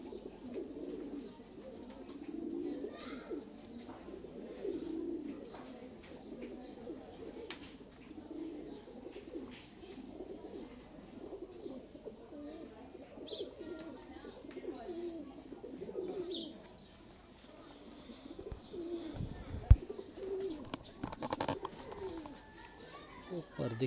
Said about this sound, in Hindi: शौक वाले कबूतर